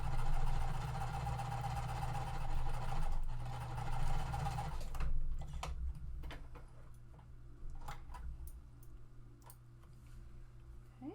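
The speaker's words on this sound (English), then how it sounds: "Our D fabric is going to go on top of the F, and we are going to sew them." A sewing machine stitches two small quilting cotton squares together, its motor droning loud and steady for about five seconds before stopping, then a few faint clicks and handling sounds as the fabric is moved.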